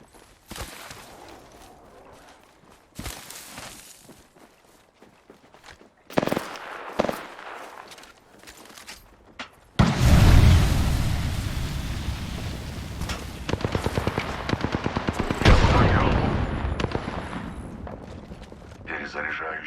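Gunfire in a video game with the player under fire: scattered shots early on give way to loud, sustained rapid bursts of automatic fire through the second half.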